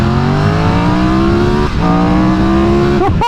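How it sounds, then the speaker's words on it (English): A Triumph Tiger 1200 with its 1160cc T-Plane triple engine revs hard, a loud, close, rising howl that climbs steadily, dips briefly for a gear change, then surges again before backing off. "This new T-Plane 1160cc triple is stonking. It sounds like a V4 at high revs"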